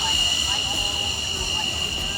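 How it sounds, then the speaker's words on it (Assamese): An Indian Air Force military aircraft passes overhead at an emergency landing highway in Northeast India, producing a loud, steady engine drone with a high whine throughout, over a crowd and close talk. "এয়া আকাশৰ প্ৰথমখন বায়ুসেনাৰ বিমান"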